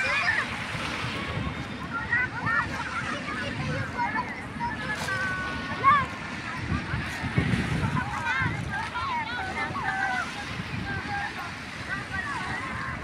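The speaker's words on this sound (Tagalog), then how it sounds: "Ayan, gumalaw yung ating dagat, oh. Umalon siya, no?" Sea waves washing along the Manila Bay shoreline on a hot day, a steady broadband wash with wind buffeting the microphone and a few louder splashes, while people talk nearby over it.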